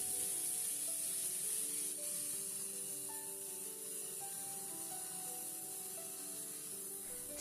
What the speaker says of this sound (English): Using the leftover bacon grease, cook your chopped leeks until they're soft and lightly browned